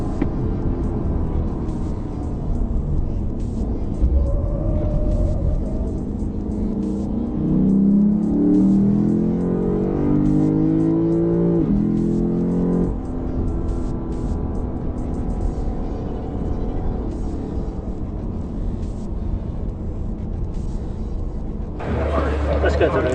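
Lexus RC F sports car driven hard on a race track, its engine a steady, loud roar with rising and falling revs through the turns, and someone talking over it throughout.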